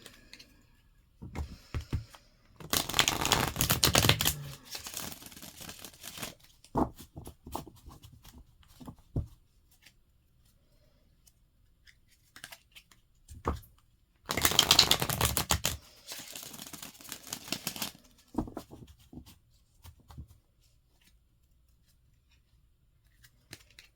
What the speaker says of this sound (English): we're just going to take a moment to shuffle up the cards